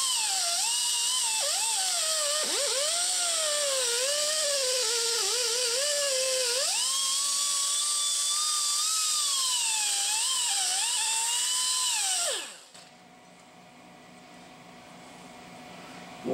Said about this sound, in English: So I'm going to hit the edge of the big circle, hit all the little ones, and that should finish this rotor off perfect.